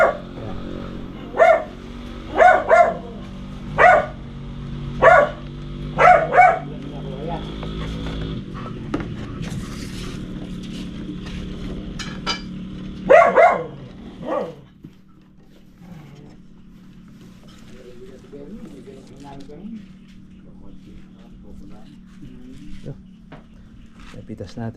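A dog barks repeatedly in short bursts, about eight loud, close barks in the first fifteen seconds, over a background hum of an outdoor rural setting, with people talking at times before the barking stops.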